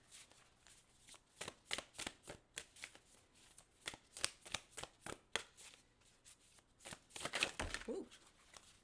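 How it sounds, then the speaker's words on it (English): Tarot cards being shuffled by hand, a steady run of soft papery riffles and slaps at close range, fairly quiet, with a slightly busier flurry near the end. "I'm going to pull some more cards here."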